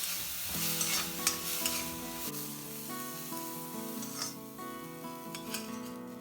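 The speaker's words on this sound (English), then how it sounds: "Saute the fenugreek leaves first for 2 to 3 minutes and then take it off." Fenugreek leaves sauté in ghee in a kadai, giving a steady frying sizzle with occasional stirring scrapes, partly under tonal background music.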